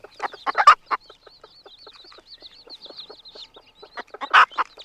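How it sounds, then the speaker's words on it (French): A newly hatching chick peeps from inside its egg on a farm, giving a run of bright, rapid chirps with a few louder bursts near the start and end, close and alone. "il peut remplir ses petits poumons pour pépier énergiquement"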